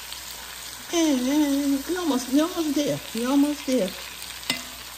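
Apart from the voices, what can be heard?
stirring Cornish hen cooking in Instant Pot Dutch oven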